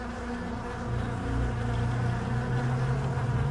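Honeybees brought in to pollinate orchard blossom buzz in a dense, steady drone, close and continuous.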